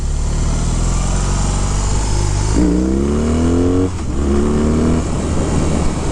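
A 2022 BMW R18 1800cc cruiser motorcycle with a largely stock engine idles with a deep rumble, then revs twice in rising sweeps, each climbing and settling back, loud and close with no talking.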